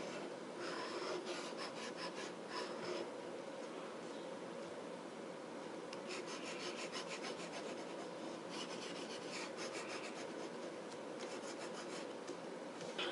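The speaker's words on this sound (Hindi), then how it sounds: "ऊपर के हिस्से को रब कर लेते हैं" A board's upper part is rubbed to erase it, giving a dry scratchy rasp of repeated strokes that is close, continuous and fairly faint, with no speech.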